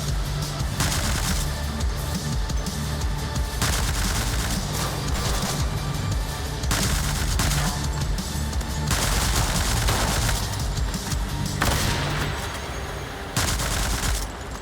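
Bursts of loud gunfire in a first-person shooter match, rapid overlapping shots and booms filling the mix in dense waves with only brief gaps, close and harsh.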